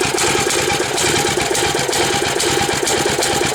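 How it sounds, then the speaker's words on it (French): A Kawasaki FA-210A small engine runs too rich, giving a loud, steady, rough drone with a fast, even pulsing throughout and no pauses. "moteur il tourne trop riche là"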